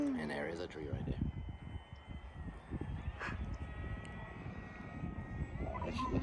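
FMS 2000mm Beaver V2 RC model airplane coasting on minimal power with half flaps, a faint, low motor hum running beneath a voice.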